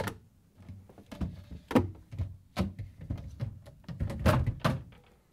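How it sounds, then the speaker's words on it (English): Samsung refrigerator fresh food door opened and its shelves removed: a series of close, irregular plastic thunks, clicks and knocks of parts being handled and lifted out. "To get this job done, we need to start with opening the fresh food door."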